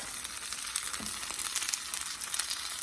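Onions frying in a pot for fried rice, a steady, soft sizzle and crackle heard close up, with faint stirring scrapes and no talking.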